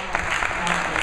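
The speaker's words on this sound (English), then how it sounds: "Big round of applause for" Applause from a town hall audience at a legislative outlook event, steady clapping blended with crowd murmur and what sounds like talking underneath.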